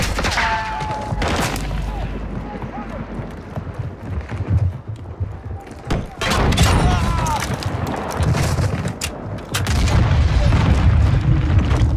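Game gunfire and booming blasts in Call of Duty Modern Warfare 2 DMZ, laying down covering fire, with loud bursts of shots and heavier thumps running through the whole stretch, some louder surges near the end, and faint voices mixed in.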